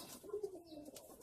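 Fantail pigeons give a soft, low cooing call, one short rolling coo rising and falling within about a second, close by and fairly quiet.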